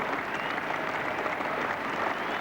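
A large cricket crowd at Old Trafford applauds Rod Marsh during a 1977 England v Australia one-day international, a steady dense wash of clapping held throughout without a break.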